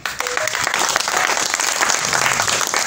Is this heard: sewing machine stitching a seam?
no